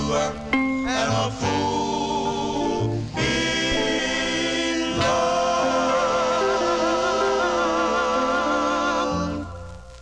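A 1956 doo-wop record on Apollo Records plays loud and continuous, with a sung vocal-harmony group over steady backing, fading out near the end.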